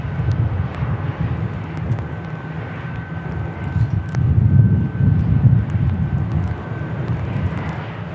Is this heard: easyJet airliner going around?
yes